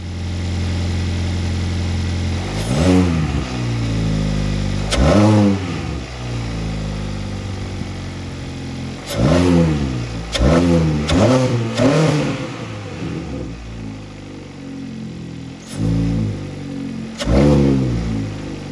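A Kia Optima engine with a K&N Typhoon cold air intake idles, then revs up repeatedly in sharp bursts, the pitch climbing and falling back each time with an aggressive intake growl.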